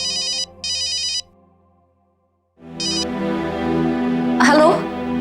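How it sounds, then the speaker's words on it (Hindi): A mobile phone ringtone sounds in two short electronic bursts, stops, then rings once more as people begin talking nearby in a home scene. "तुम्हारा फोन।"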